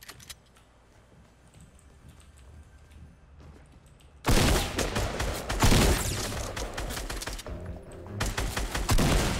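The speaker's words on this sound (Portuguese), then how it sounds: "Eu posso saber quem tá atirando em quem aqui?" Gunfire in the video game Fortnite Battle Royale, quiet and sparse at first, then a loud, dense burst of rapid shots and explosive cracks that keeps firing in bursts until the end.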